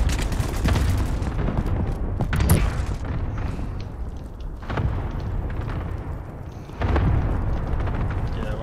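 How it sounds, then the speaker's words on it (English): Cluster strike explosions in Call of Duty: Modern Warfare boom in a loud, rumbling series, with several sharp bursts and a heavy blast near the end over continuous battle noise. "Cluster strike away"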